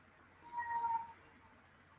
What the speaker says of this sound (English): Can you hear my cat? I'm sorry. He's so loud.